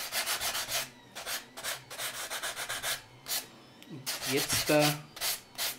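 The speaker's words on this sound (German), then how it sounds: "kommt das Schleifen und dann kommt noch einmal eine Spachtelung, damit das ganz schön alles schön eben ist" Filler on a model railway lighthouse being sanded by hand, with close, rhythmic back-and-forth rubbing strokes in steady bursts and a short spoken word near the start.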